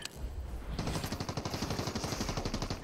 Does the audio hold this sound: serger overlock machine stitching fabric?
no